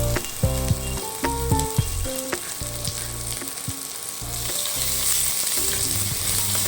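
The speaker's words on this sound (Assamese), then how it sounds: "কাটি লোৱা পিঁয়াজখিনিও ইয়াতে এতিয়া দি দিলোঁ আৰু অকণমান সময় ভাজি থাকিম" Chopped onions fry in hot oil with whole spices such as cardamom, cloves and cumin, a continuous close sizzle and crackle with occasional stirring scrapes and clinks throughout, no voices.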